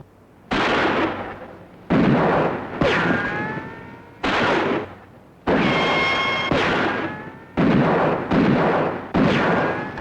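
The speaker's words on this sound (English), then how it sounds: "That's no ordinary gun he's using, not by the sound of it." A series of loud, sharp gunshots, about eight of them, fired at irregular intervals with ringing tails and no talking.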